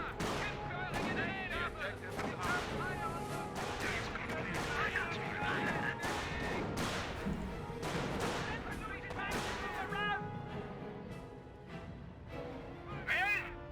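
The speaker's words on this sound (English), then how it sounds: "Mortar half track firing away." Mortar half-track firing in Company of Heroes, repeated booming launches and explosions amid scattered gunfire across a busy battlefield, with someone commentating throughout.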